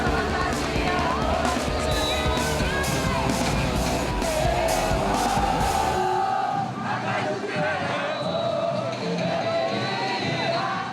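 Party crowd at a lively street festivity, a dense roar of cheering, yelling and whooping voices over loud background noise, with the din dropping slightly in the middle and then carrying on.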